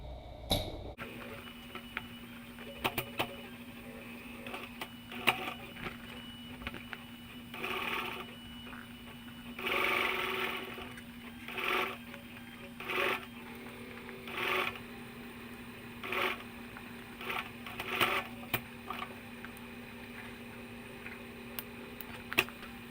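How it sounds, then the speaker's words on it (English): A double-needle post bed sewing machine with a split bar sews up the side of a tote bag in short, repeated bursts over a steady low hum, fairly faint and close. "Now I'm going to sew the other side"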